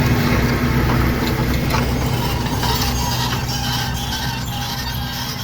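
Tractor working in a field during the 2023 grain sowing campaign, a loud, steady broadband engine drone with constant mechanical rumble filling the whole stretch, no voices.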